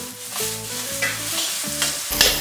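Fried egg being broken up into large chunks with a spatula in a hot wok, giving scraping, stirring knocks against the metal over a steady oil sizzle, close and fairly loud, with no talking.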